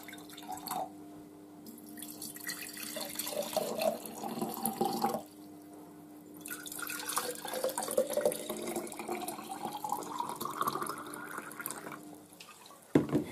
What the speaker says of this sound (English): Next, we're going to fill up the jars with water.